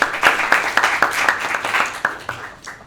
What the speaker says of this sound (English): Please give Faye a big round of applause.